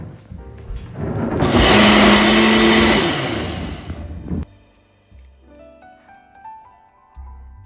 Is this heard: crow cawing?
no